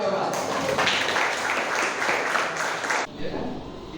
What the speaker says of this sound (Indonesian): Oke, tepuk tangan dulu untuk coba.